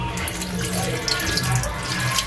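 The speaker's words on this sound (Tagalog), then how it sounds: "Tapos lalagyan natin ng kalahating basong tubig." Half a glass of water pours into a cooking pan for coconut-milk tilapia, a steady, close splashing flow that fills the whole short moment without talk.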